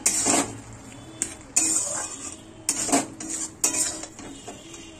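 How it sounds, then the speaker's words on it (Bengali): Mixed vegetables stirred in a pan give a run of close metallic scrapes and clinks, a spoon knocking the pan in repeated bursts with short pauses between them. "এবারে ভালো করে নাড়াচাড়া করে নেব"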